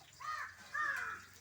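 Two hoarse caws from a crow, close by and fairly clear, in a quiet outdoor spot where a grey hornbill feeds on cooked rice.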